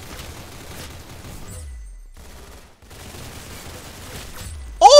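Rapid gunfire in the Roblox game Arsenal, loud dense bursts filling most of the moment with a brief gap, ending in a sharp tonal game effect.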